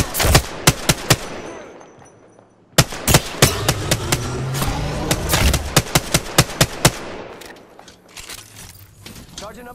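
Gunfire in the battle royale game Apex Legends rings out as sharp, loud single shots and quick bursts, pausing briefly before a denser volley of cracks and rapid fire resumes.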